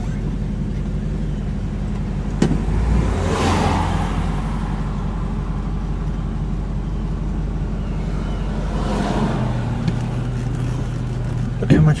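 A Buick car backs out and pulls away, its engine droning low and steady close by with a couple of brief clunks, while someone talks over the motor throughout.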